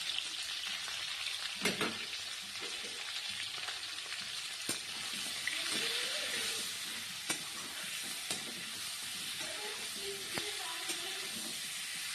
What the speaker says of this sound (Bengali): এবার আমার ফুলকপি ভাজা হয়ে গেছে